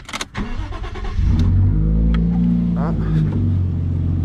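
Car engine cranking, catching and revving after a repair on a drift car, loud and close, with a brief spoken exclamation at the start.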